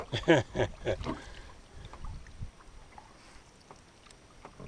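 A canoe paddled on Cauchon Lake in Algonquin, with a few soft paddle strokes and splashes near the start, then quiet water and faint wind as voices talk briefly.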